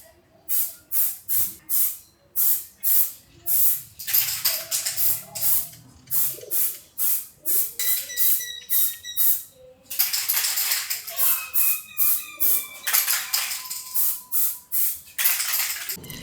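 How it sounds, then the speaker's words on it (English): Scanning spray is applied to a translucent car taillight in short, repeated hissing bursts. The spray comes in rapid pulses, then switches to longer sustained sprays, with faint chirping birds in the background. "so I need to use the spray to cover up the surface before start"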